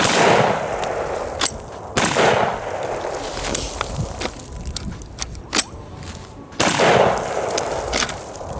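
Rifle fitted with an FRT-15 forced reset trigger firing a few loud, sharp shots with long uneven gaps between them, close up, with quieter clicks and handling noise in between.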